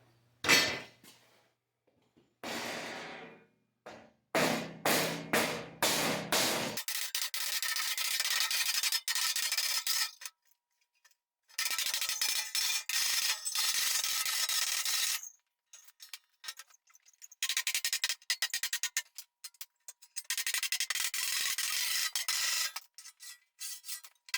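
Steel floor panel for a 1949 Willys pickup is clamped and bent into shape, giving intermittent scraping, rubbing and metallic rasping bursts separated by silent pauses, with no talking.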